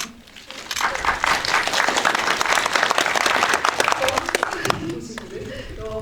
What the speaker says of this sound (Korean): 채널 개설 원하시면 한번 박수 드릴까요?